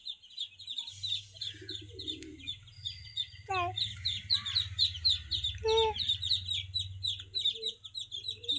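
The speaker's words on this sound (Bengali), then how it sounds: "তার সঙ্গে দেশি মুরগিটাও আছে" Native desi hen with her chicks, the chicks peeping in a busy continuous stream of high chirps while the hen clucks low and intermittently close by.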